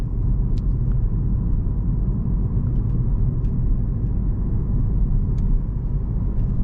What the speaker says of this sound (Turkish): Şöyle köy yolumuzda yavaş yavaş önce bir başlayalım